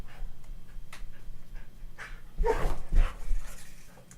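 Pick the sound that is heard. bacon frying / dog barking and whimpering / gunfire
dog barking and whimpering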